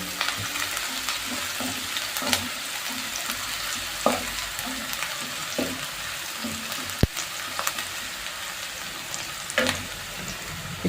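Finely chopped onion frying in oil in a pan for chicken chilli: a steady, close sizzle that runs throughout, with scattered scrapes and clicks of stirring and no talking.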